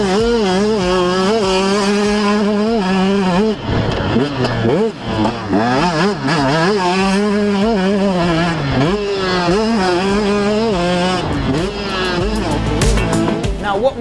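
A two-stroke motocross bike ridden on a track, engine buzzing loud and close throughout with rising and falling revs as the rider accelerates and backs off, wind rush layered over it.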